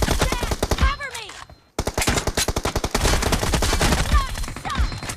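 Video game gunfire: rapid automatic bursts of loud, close shots in fast rhythmic volleys, with a brief pause, then continuous fire.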